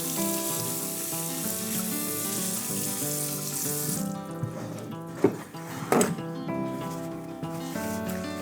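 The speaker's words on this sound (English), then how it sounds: "So I'm gonna rinse my apple real quick before we cut it." An apple rinsed under a running kitchen tap, a steady hiss of water filling the sink with a few brief splashes and knocks near the end, over a faint musical background.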